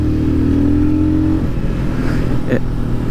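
A Royal Enfield Scram 411 motorcycle engine drones loudly and steadily while riding, its pitch climbing as it pulls, with some talk over it.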